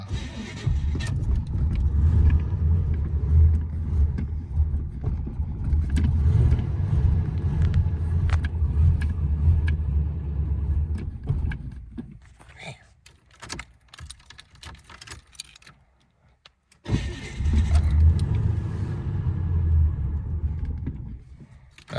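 Chevrolet Silverado truck engine cranking over and rumbling at idle on a cold start, a steady loud drone that drops away briefly near the end before resuming, with faint clicks and rattles on top.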